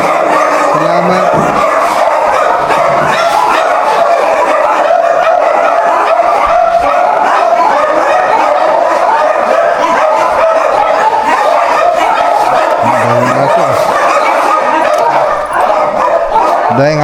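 Several dogs barking and yipping intermittently over a constant loud roar of road and engine noise, with people talking now and then.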